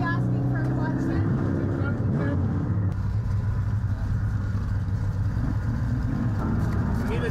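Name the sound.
car engine being started after clutch repair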